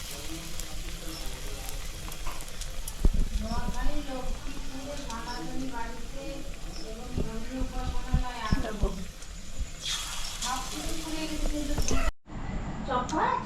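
Eggplant fritters (beguni) frying in hot oil alongside onion pakoras, a steady close crackling sizzle running throughout while voices talk over it, with a brief cut near the end.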